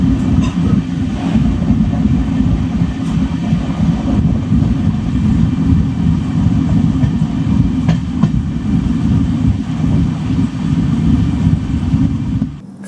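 Weekly superfast train from Chennai to Kanyakumari running at speed, heard from inside as a steady, loud low rumble with continuous rail clatter across the whole stretch, fading out only at the very end.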